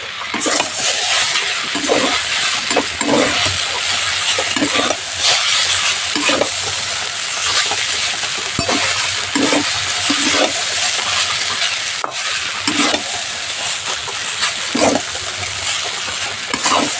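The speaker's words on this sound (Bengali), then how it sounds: "সসের সঙ্গে চাউমিনটা খুব ভালো করে মিশিয়ে নেব।" Chowmein tossed and stirred with sauce in a hot pan gives a steady close frying sizzle, broken by repeated rhythmic scrapes of a utensil against the pan, with no talking.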